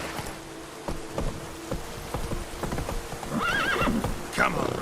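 Roach the horse gallops in The Witcher 3, set in Toussaint, her rapid hoofbeats clip-clopping steadily at close range. A neigh and soft rain mix in near the end, and some talk sits beneath the hooves.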